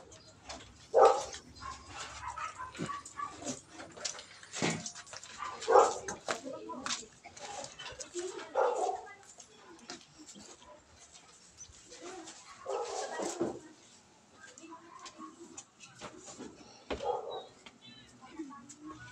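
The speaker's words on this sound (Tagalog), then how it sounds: "Di bali, pumunta na naman yung aso." A dog at a house in Nueva Ecija barks and yips in scattered bursts at middle distance, with birds cooing and people talking throughout.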